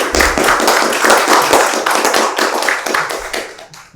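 A conference audience at a garden expo talk gives loud, close applause. The clapping starts strong as a dense, crisp patter of many hands, then fades over a few seconds.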